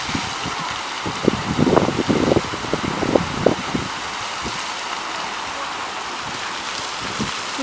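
Steady rushing and splashing water from a city fountain in Dnipro, Ukraine, running continuously, with a few louder splashes early on and a constant broadband wash throughout.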